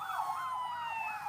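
An ambulance siren wails in a steady rising and falling cycle, loud and continuous, as ambulances carry injured people from the Gaza Strip to Egypt.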